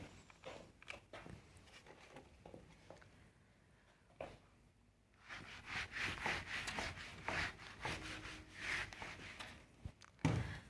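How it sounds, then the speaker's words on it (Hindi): An eraser rubs across a board during a Class 12 maths lesson on matrices, giving scratchy, rhythmic strokes. Softer at first, the rubbing grows louder and busier in the second half, with one sharp knock near the end. "थोड़ा सा रब कर लेते हैं"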